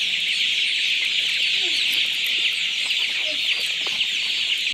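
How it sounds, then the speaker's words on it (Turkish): A dense, continuous mass of high peeping from huge numbers of chicks at a poultry production facility in Doruk village, Çamlıyayla, Mersin, where they are starving. The sound is steady and loud throughout. "tavuk üretim tesisindeki civcivler açlıktan ölüyor."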